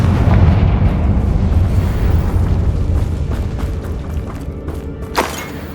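A Confringo spell bursts in the Hogwarts Legacy video game as a loud, booming fiery explosion with a deep rumbling tail that slowly fades, followed by a sharp crack near the end.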